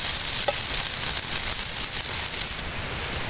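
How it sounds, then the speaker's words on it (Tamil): Dosa batter cooking on a hot griddle with a little oil, a steady close broadband sizzle running throughout without talk. "இப்போ தோசை வெந்துருச்சு"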